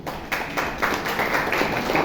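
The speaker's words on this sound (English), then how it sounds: "Shall we give Jose a round of applause?" A Toastmasters meeting audience in Bangalore claps for a speaker, with steady, fairly close applause running throughout, made up of many overlapping hand claps.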